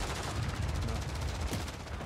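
Warzone video game gunfire from a sniper squad match, a dense rattle of repeated shots continuing for about two seconds at moderate loudness, with a voice speaking faintly underneath.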